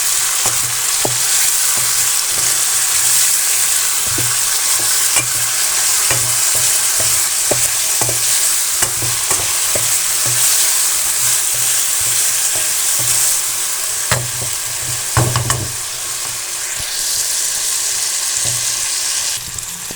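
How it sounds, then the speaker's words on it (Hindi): Potato pieces fry in hot oil in a pan, giving a loud, constant sizzle with frequent scrapes and knocks of a stirring spoon against the pan throughout. "इसलिए इनको पहले फ्राई कर लेना है आपने।"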